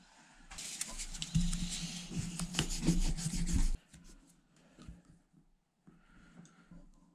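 Brisk rubbing and scrubbing inside a Daiwa Sealine X30 SHA fishing reel with the brass shield removed, a dense rasping burst for about three seconds that stops abruptly, followed by a few faint scattered taps and clicks.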